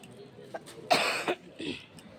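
A person coughs in a few short, harsh bursts, with one strong cough in the middle and weaker throat-clearing sounds around it, fairly close in a quiet room.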